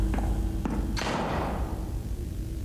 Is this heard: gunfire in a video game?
yes